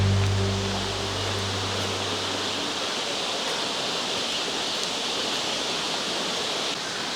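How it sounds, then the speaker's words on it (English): Wli Waterfalls in Ghana give off a steady, dense roar of falling water that holds constant and fills the air, with no voices over it. "this is a Wli Waterfall behind me"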